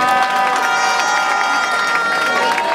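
A church congregation cheers and acclaims together in a dense, loud wash of voices and shouts, continuous throughout with no pauses.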